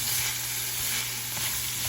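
Pork browns in a hot skillet with a steady, dense sizzle of frying fat that holds evenly throughout, close and fairly loud.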